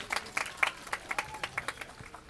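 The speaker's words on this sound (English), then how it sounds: "Let's give them another round of applause as they're exiting the steps of our Capitol." Scattered, fairly faint hand claps from a small outdoor crowd on the steps of a state Capitol, applauding the YMCA, with individual claps clearly separated.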